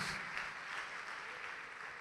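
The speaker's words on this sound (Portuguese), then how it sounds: "Vamos aplaudir a Jesus" A church congregation applauds for Jesus in a steady, diffuse wash of many hands clapping at once, soft and distant with no individual claps standing out.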